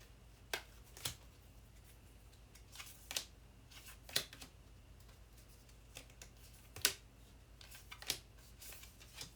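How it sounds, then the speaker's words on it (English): A very small tarot deck is shuffled by hand, giving soft scattered card clicks and riffles over a quiet hiss, faint and close, with no talk. "I did not tune in to watch you shuffle, but this is the tiniest deck ever"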